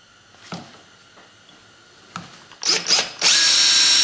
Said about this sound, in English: using your drill on high speed and plumb to the surface